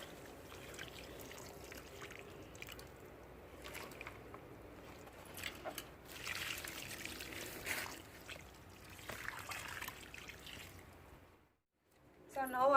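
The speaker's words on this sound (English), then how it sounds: "So before that I'll just water the plant and add some mulch." Water poured from a can or hose onto a newly planted bareroot floribunda rose, a soft, steady trickle and splash running for several seconds at low level, fading out near the end before a brief louder rustle.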